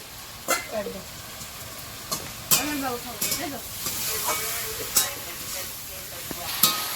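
Vegetables fry in oil in a pan over a wood fire, with a steady sizzle and hiss under scattered stirring scrapes and clinks. Someone talks nearby.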